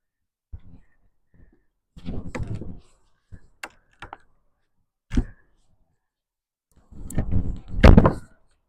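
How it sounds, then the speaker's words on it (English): Garden pruners snipping through a knotty branch to make a stem, a few separate close crunching cuts and clicks separated by quiet pauses, with a longer rustle of handling near the end. "I'm going to cut it with the pruners."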